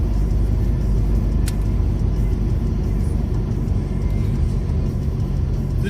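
Steady low engine and road rumble fills the inside of a moving car, continuous and even throughout with no talking.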